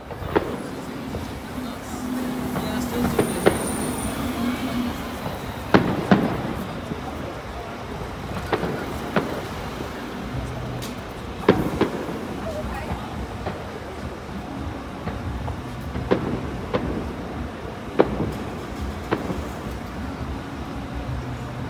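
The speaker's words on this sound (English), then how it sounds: "Some fireworks above the castle tonight." Fireworks burst above a castle at night, heard as scattered sharp bangs at irregular intervals, fairly distant and set against a steady low outdoor rumble.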